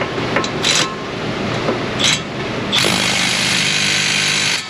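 Milwaukee cordless impact wrench straining against wheel hub bolts on a 2017 Ford Fusion, heard close up in the wheel well with short hammering bursts followed by a longer sustained run.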